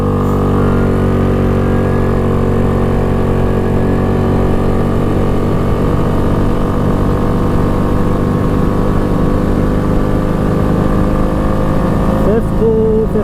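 An ATV engine holds full throttle at top speed, a loud, steady high-rpm drone with dense harmonics that stays constant throughout, with a brief shift near the end.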